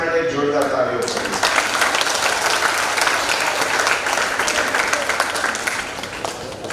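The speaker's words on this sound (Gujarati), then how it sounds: "તો એના માટે આપણે એક ગ્રાન્ડ પેરેન્ટ્સ માટે જોરદાર તાળીઓ કરીએ" An audience at a parents' meeting gives loud, sustained applause for the grandparents in attendance. The dense clapping starts after a brief opening moment and continues steadily to the end.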